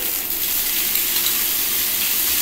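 Cooked rice and potatoes sizzle in hot ghee in a pan while chicken biryani is being made, a loud, constant frying hiss with no break and no voices.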